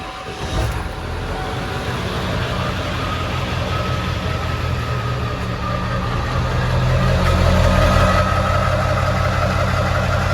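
A vehicle engine idles close by after a cold start with its exhaust loose from the downpipe, a steady low rumble that grows slightly louder toward the end, no talk.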